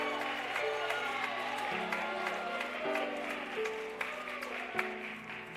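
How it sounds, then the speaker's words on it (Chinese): Church congregation clapping hands during a Sunday worship service, a continuous moderate wash of applause from a room full of people, fairly soft, with sustained tonal music or hum underneath. "来拍手。"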